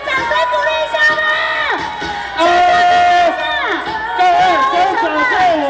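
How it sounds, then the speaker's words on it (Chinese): An audience applauds and cheers for a dance troupe at a live show, a dense wash of clapping with whoops and crowd chatter, swelling loudly midway and continuing under a bright, sustained musical tone. "再给我们的舞的他一个最热情的掌声鼓励一下吧"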